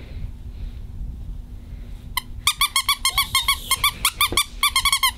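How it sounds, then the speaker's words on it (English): A squeaker toy hidden inside a fur tail is squeezed repeatedly, giving a rapid series of bright, close squeaks after a couple of seconds of quiet room hum. "There's literally a squeaker."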